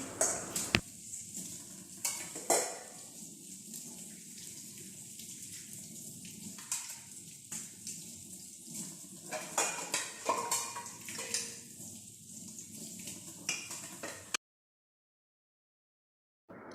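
Dishes, pots and utensils are washed at a kitchen sink, with close clattering of metal and ceramic, scraping and water splashing in irregular bursts, ending in a short stretch of silence.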